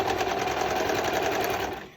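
Sewing machine stitching a seam on a two-piece dance set, a fast steady rhythmic whirr close by that slows and stops at the end.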